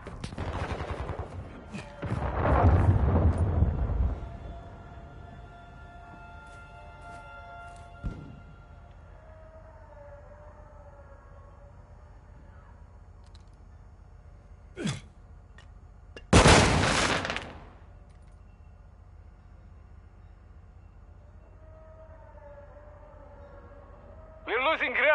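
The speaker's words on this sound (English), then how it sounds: "Hostile cruise missile launched." A hostile cruise missile launches and strikes in a free-for-all war game: a loud burst of blasts at the start, then quieter machinery hum with sharp isolated bangs and a big explosive roar midway, ending on another hit.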